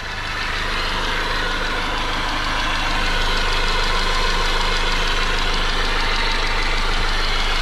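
A Honda Civic RT4WD wagon engine idles on its own after the throttle is released, a steady, loud, close mechanical hum with a faint knocking rumble that holds even throughout.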